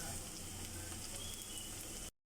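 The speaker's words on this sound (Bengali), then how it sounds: "প্রথমে আমি এখানে 1/2 কাপের মতন তেল দিয়ে দিয়েছি। এখন আমি 1 মুঠ পেঁয়াজ দিয়ে দিব।" A handful of onion dropped into about half a cup of hot oil sizzles and fries steadily for about two seconds, close and loud, with no talking, then cuts off abruptly.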